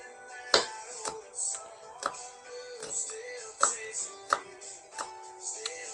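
Green onion chopped for meatball subs: a knife taps sharply on a cutting board in an uneven series of about nine close strikes, with faint tonal background sound between them.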